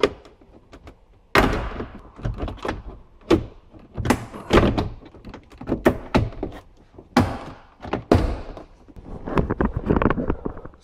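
Push-button clips are pried off a car door panel during an electric window repair: a series of sharp plastic snaps, knocks and thuds come at irregular intervals, close up, with scraping between them.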